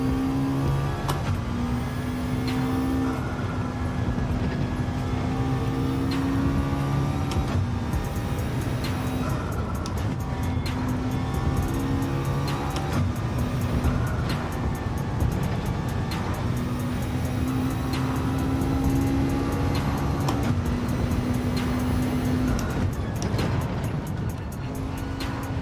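Turbocharged race car engine in Gran Turismo 7 drones steadily and loud throughout, with shifting pitch and faint tire squeal, no talking over it.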